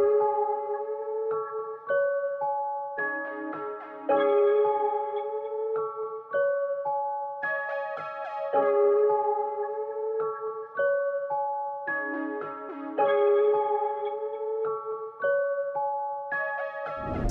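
Dark FL Studio beat built on Analog Lab Evil preset chords, with sustained, shifting synth chords and a higher melodic line repeating in a slow minimal pattern, steady and moderately quiet, with no voices.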